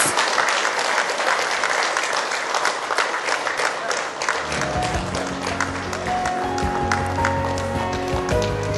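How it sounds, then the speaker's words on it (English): Loud, sustained audience applause at a Bengal celebrity cricket league team launch, continuous crowd clapping that carries on as music with sustained tones enters partway through. "Let's give him a huge round of applause."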